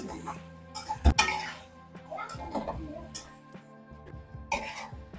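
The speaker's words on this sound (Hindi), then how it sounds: "इधर डाल दूंगा थोड़ा सा घी और इसको बस हिलाते जाते हैं" A spoon stirs chicken karahi with ghee in a metal pan, giving scattered clinks and scrapes. There is one sharp, loud knock near the start, then softer intermittent rattling with quiet pauses between.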